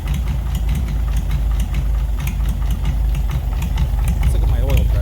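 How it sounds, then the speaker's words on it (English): An Oliver 70 tractor engine, running after twelve years idle with a misfire, idles with a steady mechanical clatter and a faint rhythmic knock from a worn rod bearing, close and continuous throughout. "There's a little bit of a rod knock."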